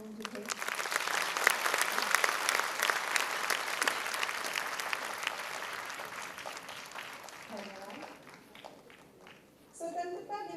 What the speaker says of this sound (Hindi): मूक प्रस्तुति के लिए इतनी तालियां चाहूंगी कि पूरा हॉल गूंज उठे